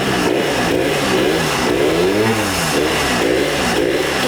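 An old motorcycle engine that had sat unused for decades runs continuously up close, a steady loud idle with rising and falling revs throughout.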